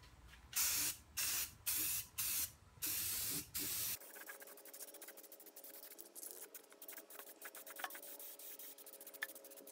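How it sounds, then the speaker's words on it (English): Short bursts of gray enamel spray paint hiss in a quick series of about six pulses onto the head of an Atlas 73 drill press, followed by quieter handling and clicking noises. "I'm gonna go ahead and spray just mostly the top area here with another coat before I flip it over."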